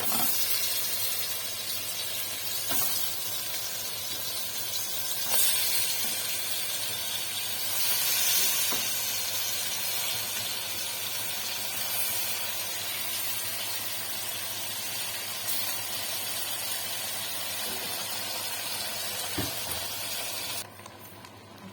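Spiced meat for a white biryani frying in a pot, a steady, fairly quiet sizzling hiss that runs continuously with faint clicks and no talking.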